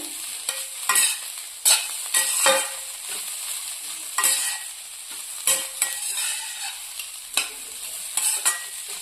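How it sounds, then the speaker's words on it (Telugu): Carrot halwa is stirred in a pan as ghee is mixed in, making repeated close, brisk scraping and squelching strokes in an irregular rhythm, with no talking. "ఇప్పుడు ఇంకొంచెం నెయ్యి యాడ్ చేసుకుంటాము ఇది కూడా ఒకసారి కలుపుకొని షుగర్ అయితే యాడ్ చేద్దాం దీంట్లో"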